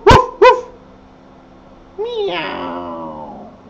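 A person imitates a dog with two quick, sharp barks, then after a pause makes a long, wavering, drawn-out call, close and loud with no other background sound.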